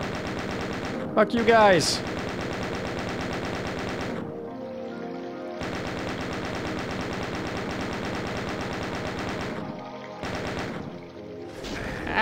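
Sustained rapid machine-gun bursts in the Doom mod MyHouse.wad, loud continuous fire broken by short pauses, with someone briefly speaking over it near the start.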